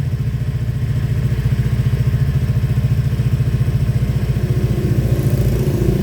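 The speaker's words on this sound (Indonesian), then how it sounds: "Oke, perhatikan starter jalan. Mesin hidup." A Honda Vario 125 scooter engine running just after being started, a close, loud, even idle putter with rapid regular pulses, steady throughout and alone with no voices.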